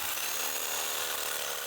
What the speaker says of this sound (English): Take the Sawzall and cut a spot in this aluminum